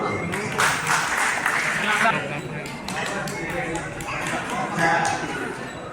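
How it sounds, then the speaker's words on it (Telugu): A crowd at a Sri Rama Lingeswara Swamy temple committee gathering in Nandikandi claps steadily, a dense, moderately loud patter of many hands that runs throughout under a speaking voice. "చప్పట్లు."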